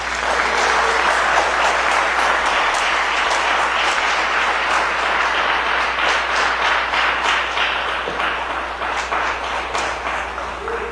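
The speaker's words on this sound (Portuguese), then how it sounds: "Eu gostaria que os irmãos dessem um aplauso ao Senhor Jesus Cristo." A congregation at an evangelistic church service gives a long, loud round of applause, dense clapping sustained for about eleven seconds, easing slightly toward the end.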